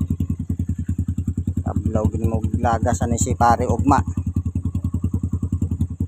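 A Yamaha XTZ motorcycle with a Red Bull concept build idles in a steady, close, loud thumping rhythm throughout, while someone talks over the engine in the middle.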